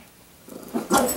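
A small female puppy gives a brief, close yip or whimpering bark, rising suddenly out of a quiet room and ending within about a second.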